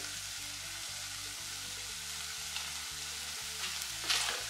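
Grated coconut is stirred into mussel thoran frying in a pan, with a steady broadband sizzle and a soft scrape near the end, no talking.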